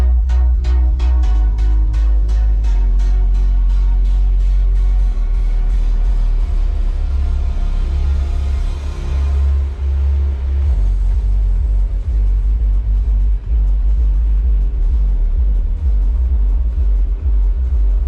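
Heavy subwoofer bass booms inside a 2023 Jeep Rubicon with an upgraded amp and woofers, a loud, deep, continuous rumble with rapid pulsing at first, then steady pounding bass and faint higher music over it.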